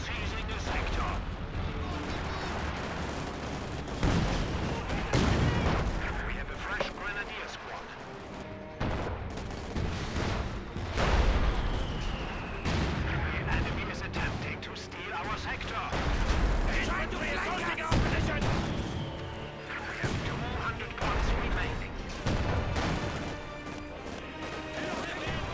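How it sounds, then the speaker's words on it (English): Artillery and battlefield fire in Company of Heroes 2, a dense run of booming blasts and crashing impacts repeating through the scene, with someone commentating over the din throughout. "So Sage of the Six has managed to recrew his artillery, and he's firing it."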